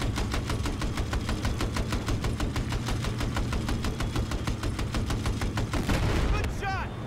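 Sustained automatic gunfire in Battlefield 4, loud rapid bursts of shots running continuously, with a voice shouting over the shooting near the end.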